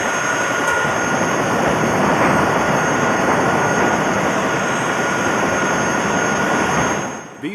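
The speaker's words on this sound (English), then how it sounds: "the Vietnamese helicopter drops its load of rice and flies off empty" A Vietnamese military helicopter flies off empty after dropping its load of rice during the 1972 siege of Kontum, a loud, steady rotor and engine roar filling the whole span before cutting off at the end.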